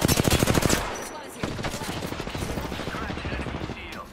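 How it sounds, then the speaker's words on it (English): Rapid automatic gunfire crackles in an Apex Legends match, a dense burst of close shots followed by a longer stream of quick, steady reports. "Where were they shooting me from?"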